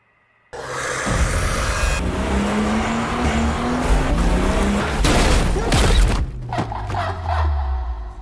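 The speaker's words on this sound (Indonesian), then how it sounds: "sebelum mobil mengalami benturan" A car crash in a film scene: a loud engine roars with climbing revs, then harsh crunching impact bursts and clattering debris hit in a dense, continuous din.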